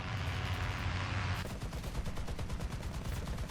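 In War Thunder, an anti-aircraft Browning machine gun mounted on an AMX-13-M24 tank opens up after a brief lull, hammering out a fast, even stream of rounds that continues steadily to the end.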